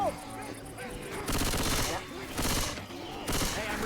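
Shotgun gunfire in Left 4 Dead 2, a burst of loud broadband blasts repeating about every second over busy game noise, with players talking underneath.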